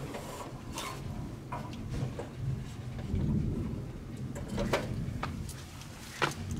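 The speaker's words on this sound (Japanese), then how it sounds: "ちょっとね、雨も落ちてきたので中に入ります。" Light rain begins falling outdoors, with scattered drops pattering and clicking on nearby surfaces over a low rumbling background during a dog walk.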